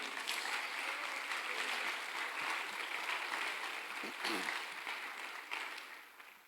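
Applause from a church congregation during a sermon, a steady dense clatter of many hands that carries evenly throughout and fades slightly near the end.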